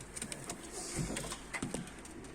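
Short, faint chirps from a small bird, a few brief calls scattered over a quiet background.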